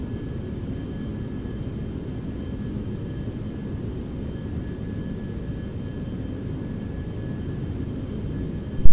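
A Beech Premier business jet is in flight, and its engines give a continuous low, broadband roar heard from inside. The roar stays steady throughout and ends in a brief bump at the close. No one talks.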